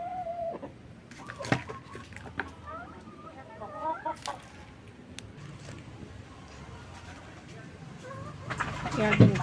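Backyard chickens feeding, with scattered clucks and soft bird calls over a low background and occasional pecking taps close by, plus a brief louder squawk near the end.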